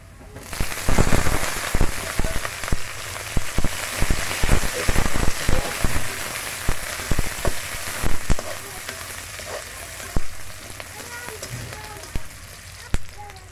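Garlic sizzling in hot oil in a pan, a steady crackling hiss with sharp pops and spatters, loud and close throughout.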